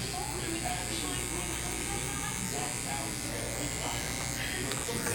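Electric hair clippers buzz steadily and close up while cutting a 360 waves haircut, with the blade flicking out the bottom line; a low mains-like hum runs continuously underneath.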